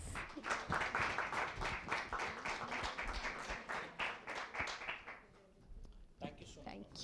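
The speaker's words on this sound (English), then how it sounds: "Let's keep clapping, guys." An audience at an indoor coaching event claps in quick, dense, fairly faint applause that fades out toward the end, with a voice talking over it.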